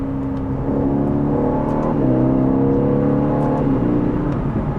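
Aston Martin DB11 V8 engine pulls hard through its ZF automatic gearbox in manual mode, revs climbing in a steady harmonic whine with two distinct upshift drops about a second and a half apart, loud and close, no voices.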